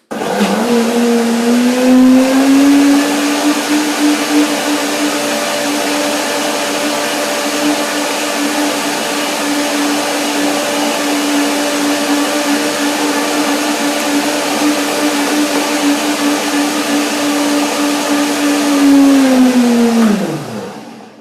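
A blender runs steadily for about twenty seconds, whirring dates and water into a creamy filling for a white hemp chocolate cake, starting and stopping sharply with a loud, even motor drone throughout.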